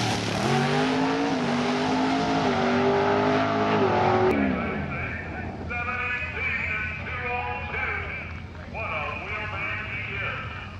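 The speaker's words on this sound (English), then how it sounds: "does the burnout and gets set up for the final event for the Chicago Wise Guys at Byron" Drag racing car at Byron doing a burnout with heavy wheel spin, a loud sustained engine roar that drops to a lower rumbling idle as it sets up, with a commentator's voice talking over it.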